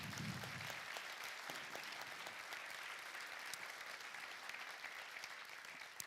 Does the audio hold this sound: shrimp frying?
no